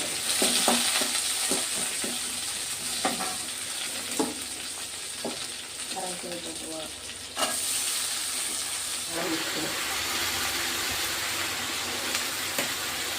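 Shallots and curry leaves fry in a pan with mustard seeds for a Chettinad pumpkin poriyal. A steady close sizzle and hiss run throughout, broken by scattered spoon scrapes and a few sharp pops.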